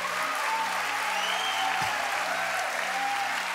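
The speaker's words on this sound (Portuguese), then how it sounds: "Uma salva de palmas para esse jovem" Steady applause from a church congregation for a young man, a dense, even patter of clapping hands holding at moderate level throughout, with faint low tonal hum underneath.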